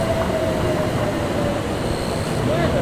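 Japanese monorail train rumbling steadily as it slows and stops at a station, with a constant low roar, a faint high whine and a brief squeal near the end.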